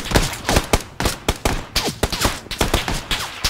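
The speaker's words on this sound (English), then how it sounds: "They're shooting back." Rapid bursts of gunfire in the video game PUBG (Battlegrounds) at a military base, a dense run of loud, sharp shots at irregular close intervals throughout.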